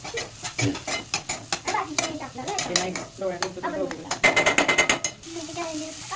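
Pav bhaji is stirred in a pan on a home gas stove, a spoon scraping and clinking in quick repeated strokes, with voices talking over it.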